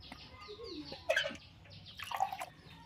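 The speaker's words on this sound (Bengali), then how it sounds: "প্রথমে আমার এই ছোটো গাছগুলো জল দিয়ে দেবো।" Water poured from a bucket onto small plants, in two short splashing pours, fairly quiet, with birds chirping faintly outdoors in the background.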